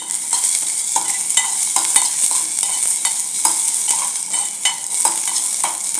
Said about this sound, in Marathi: कांदा असा गुलाबी रंगावर आल्यावरती याच्यात घालूया आलं आणि लसूण, तेही तेवढं याच्याबरोबर पहिला परतूया